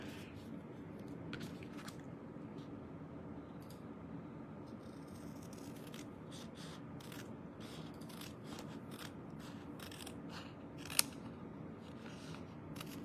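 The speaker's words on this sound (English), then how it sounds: "we're just going to cut off this piece right here" Scissors cutting a square piece of paper for a handmade no-sew Valentine journal, heard as a close series of short, soft snips spread irregularly across a quiet background.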